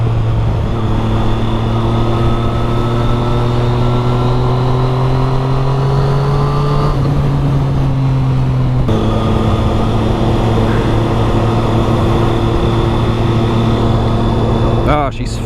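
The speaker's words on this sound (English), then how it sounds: "Oh, this bike sounds so good." A Triumph Street Triple 675R motorcycle engine drones loud and close while riding: a steady, layered hum whose pitch dips and shifts around the middle, then settles back into an even tone.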